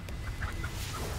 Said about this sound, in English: Enjoy your time as a chicken.